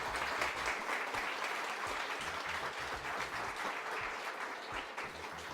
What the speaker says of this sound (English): maybe a round of applause for our fantastic panelists